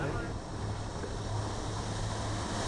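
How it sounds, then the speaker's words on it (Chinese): A jet ski races across muddy floodwater covering a main road in Jiadong Township, Pingtung, after Typhoon Morakot. Its steady engine roar and rushing water stay loud and constant throughout, with no voices. "水上摩托车疾驶而过"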